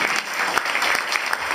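Audience applause at a popular music museum's tribute event, offered to a guest of honour; brief, fairly quiet clapping with a few sharper individual claps standing out.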